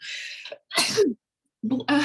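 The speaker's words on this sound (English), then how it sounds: "Excuse me, surprise sneeze." A single sudden sneeze, loud and close, with short breathy bursts before and after it.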